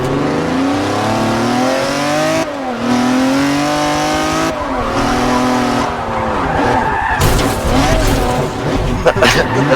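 A race car in a racing video game spins out, its engine note rising and falling in sweeping revs, then breaking into harsh tire skid and squeal, loud and close, with a voice talking over parts of it.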